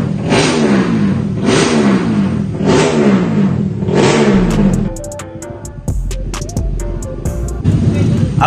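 A Suzuki Raider 150 Fi motorcycle with a Stage 1 upgrade revving up, loud repeated throttle blips rising and falling in pitch, then dropping to a rough idle with clatter before revving again close by.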